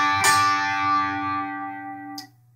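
An electric guitar plays a short, distorted phrase from a solo: a bright picked attack, then a slide that rings and decays for about two seconds before a final quick pluck and silence.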